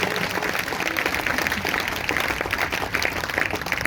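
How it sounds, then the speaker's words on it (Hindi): A congregation at a Sunday worship service claps hard and continuously, a dense even roar of hands filling the room without pause. "जोर से तालियां बजाएंगे, जोर से,"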